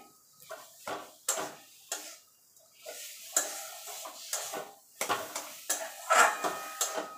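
A spoon scraping and clinking against a pan while milk pudding with paneer is stirred over low-to-medium heat, giving irregular sharp metallic knocks and scrapes, close and clear, with no talk.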